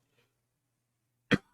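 A single sharp cough from a man with an irritated throat during a live church sermon, loud and close after a near-silent pause with a faint low hum.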